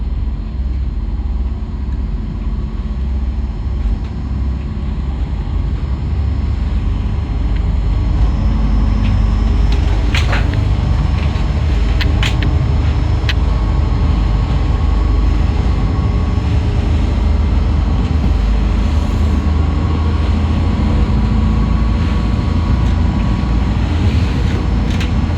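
A 2001 Brisbane Ship Constructions high-speed aluminium workboat, the Delphi, runs at full throttle in choppy, windy water, its engines giving a steady, loud, continuous roar with wind buffeting and no talk.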